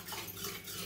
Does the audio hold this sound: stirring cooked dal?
yes